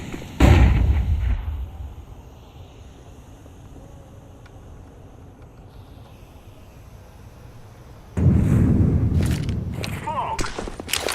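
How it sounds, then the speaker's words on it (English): In Counter-Strike 2, a heavy grenade blast thumps up close, followed by a quieter stretch, then another loud burst of explosions and rapid gunfire, with a voice talking over the action. "Grenade out! I'm throwing a grenade!"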